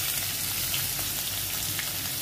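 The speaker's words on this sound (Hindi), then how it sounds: "पहले ऑनियन और अदरक को दिया गया कढ़ाई में, लहसुन, टोमेटो" Onion and ginger fry in oil in a kadhai as the base of a dhaba-style egg tadka, producing a dense, continuous crackling sizzle, steady and close with no pauses.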